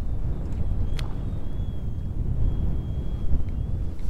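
Wind blows on a small fishing boat in a marsh as a steady, loud low rumble buffets the microphone, with a faint thin whine running underneath and no speech.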